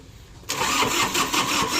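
A Kubota L4508 tractor engine with a weak battery cranks loudly and laboriously with a rapid, uneven chugging that never quite catches, close to the listener.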